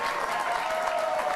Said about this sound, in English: they're applauding for the mafia